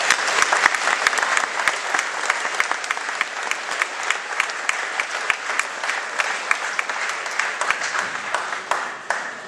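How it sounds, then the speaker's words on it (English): A crowd applauds graduating sixth graders at a school graduation ceremony, loud and dense clapping that continues steadily for nearly ten seconds, with no voices over it. "Let's give them all a round of applause,"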